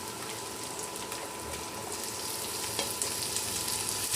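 Onions sizzle steadily in hot oil after garlic has browned, with occasional stirring scrapes over a continuous frying hiss that grows slightly louder.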